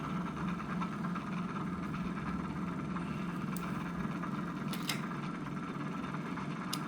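A homemade generator's flywheel rotor, an 8-inch, 9-magnet rotor rated around 2700 rpm, spins with a steady, continuous mechanical whir and hum at constant loudness, with a few faint clicks near the end.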